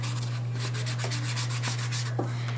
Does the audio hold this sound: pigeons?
no